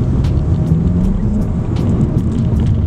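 Volkswagen Jetta GLI two-liter engine pulling hard through a turn, a steady loud low rumble heard from inside the car, holding constant throughout with no talking.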